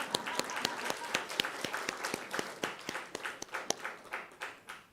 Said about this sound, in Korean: 늦게라도 와서 지휘한 지휘자에게 우리 격려의 박수를 한번 보냅시다.